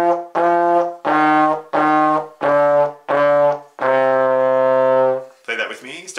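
A trombone plays six sustained notes of a simple beginner melody, the last held longest. The notes sound solo, close and clear, with a short breathy sound at the end.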